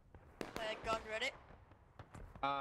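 A cannon shot from an artillery gun in the Civil War game War of Rights on the Pry Ford map, several sharp booming bangs amid other distant gunfire, mixed under voice chat among the crew.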